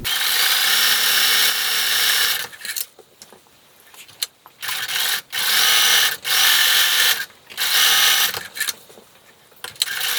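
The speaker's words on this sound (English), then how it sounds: "then I'm going to sew down each side of the woven top." Sewing machine stitching down the edges of a quilted fabric pie table topper with a woven top, loud continuous whirring runs broken by short pauses, no talking.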